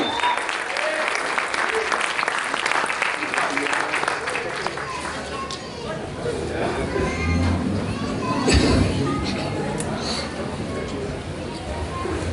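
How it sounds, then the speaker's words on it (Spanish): An audience at a church gathering claps steadily and loudly for several seconds, with cheering voices mixed into the sustained applause. "Ahora dale un aplauso a Cristo"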